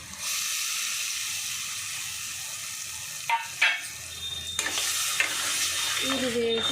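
Tomato and cashew paste frying in a pan for a mixed vegetable kurma, a steady close sizzle throughout with a few sharper scraping stirs and spatters midway.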